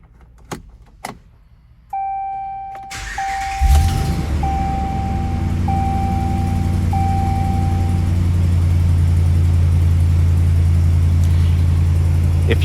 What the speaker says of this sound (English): I'm gonna do a cold start on the vehicle so you can hear how it sounds when it first starts up.